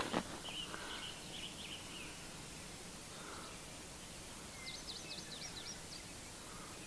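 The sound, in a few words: birds calling in the woods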